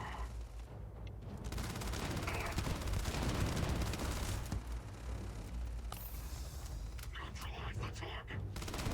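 Sustained rapid gunfire and weapon bursts from a Starfield firefight fill the scene, loud and dense throughout, with a voice talking over the shooting.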